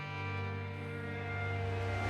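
A big reversed brass swell built for video sound design, a dense sustained tonal chord with a strong low drone that holds steady and grows slightly, loud and alone with no talk.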